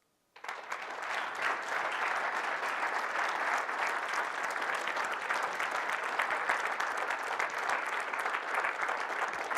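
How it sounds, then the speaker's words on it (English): Steady, sustained audience applause after a keynote speech at a spring symposium, a dense wash of clapping that starts abruptly and holds at an even level throughout, with no talking over it. "thank you for that kind applause"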